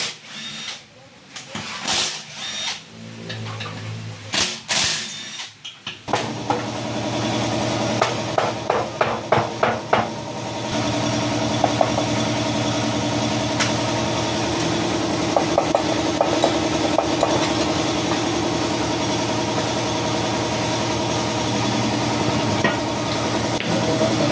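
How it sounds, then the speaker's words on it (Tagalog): Engine bolts being removed from the crankcase of a Honda Click motorcycle in a repair shop, with irregular metallic clanks and taps, then a rapid ratcheting burst and a steady hum underneath, while someone talks. "tanggalin yung mga engine bolt para mapag-iwalay natin yung crankcase"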